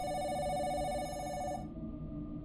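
Telephone ringing in the video game Self-Checkout Unlimited, a bright, steady electronic ring that runs for about a second and a half and then cuts off, leaving a low background hum.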